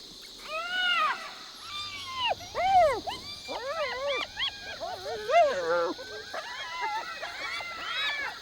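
African wild dogs confronting a hyena at night on Chief's Island in Botswana: a run of high, squealing yelps and twittering whines, rising and falling in quick bursts, with a narrator speaking over them.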